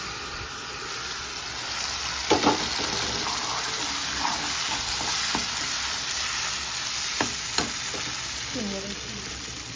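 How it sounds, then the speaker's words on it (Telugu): Green chillies and dal frying in a pan for mango dal, a steady broadband sizzle with a few sharp stirring clinks and pops, close and fairly loud throughout. "పచ్చిమిర్చి అన్నీ వేగాయండి."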